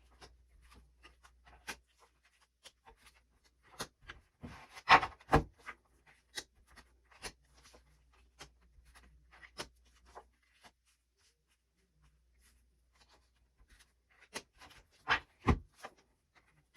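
Tarot cards are drawn from a deck and laid down in a quiet room, heard as soft, scattered rustles and slides of card stock with a few louder flicks and slaps close by.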